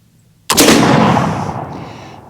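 A single loud gunshot fired with Schuetzen black powder at a steel target outdoors, a sharp sudden blast followed by a long rolling echo that fades over about two seconds, with no talk.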